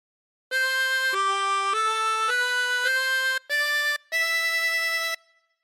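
A chromatic harmonica plays a phrase of God Defend New Zealand, with about seven clean, sustained reed notes stepping through the melody, two short breaks near the end, then a held final note that cuts off into silence.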